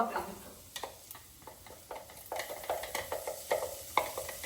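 Onions and garlic frying in butter in a pan, with soft intermittent sizzling and scraping stir strokes, close and fairly quiet, with no talk over them.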